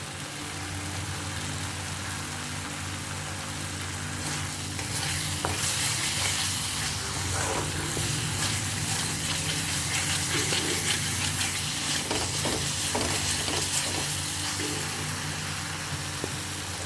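Ridge gourd pieces fry in hot oil in a pan, giving a dense continuous sizzle close by, with scraping and clinking as they are stirred throughout.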